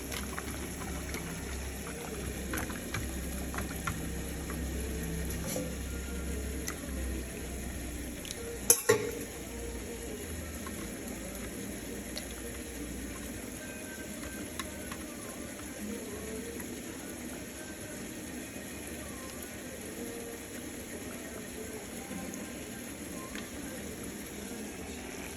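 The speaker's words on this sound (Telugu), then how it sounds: "ఈ కలిపిన మిశ్రమాన్ని దీంట్లో పోసుకోవాలి." A buttermilk mixture for majjiga pulusu is poured into a pan and stirred, making a low, steady scraping and sizzling texture with one sharp knock partway through.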